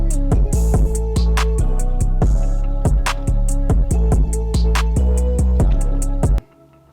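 A trap beat plays with booming bass, punchy drums and open hi-hats in a steady rhythmic loop, loud and full, cutting off abruptly near the end.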